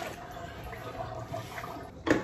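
Dirty water draining from a tub, a faint steady trickling gurgle with a brief louder splash or gulp near the end.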